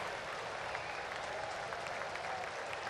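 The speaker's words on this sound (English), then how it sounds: "look at this crowd. A standing ovation for Paul Skeens." A stadium crowd at a baseball game claps and cheers through a standing ovation for a pitcher, a steady and dense wash of applause that runs the whole time with no clear voices above it.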